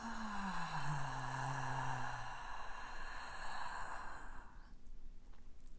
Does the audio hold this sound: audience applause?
no